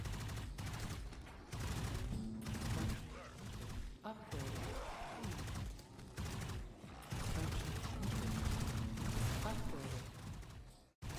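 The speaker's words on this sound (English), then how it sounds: "Do we need another machine gun turret over here?" Dense bursts of rapid machine gun turret fire from the sci-fi base defense game Marz: Tactical Base Defense, continuous and loud with brief pauses, while a voice speaks over the gunfire.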